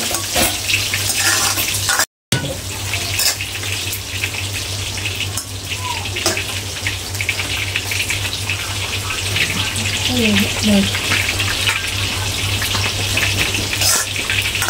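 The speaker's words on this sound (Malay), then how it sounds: "Sebelah ni tengah goreng ikan." Fish sizzles and crackles steadily in a pan up close, a continuous frying hiss with occasional pops and a soft voice underneath.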